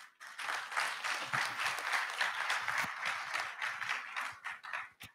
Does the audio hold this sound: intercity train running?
no